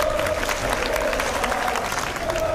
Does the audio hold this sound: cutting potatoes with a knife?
no